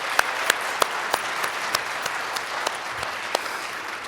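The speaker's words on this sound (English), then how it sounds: "Give us another huge round of applause for all of our amazing performers." Audience applause for performers at the 2024 Michigan Food and Farming Systems awards ceremony, a steady wash of many hands clapping with a few sharp, closer claps standing out, sustained and moderately loud with no talk.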